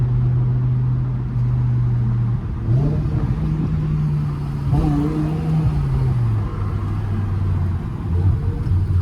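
A BMW E60 M5 V10 revs hard through a tunnel on a drive, echoing close and loud, with rising and falling engine pitch across several pulls and a brief lift between them.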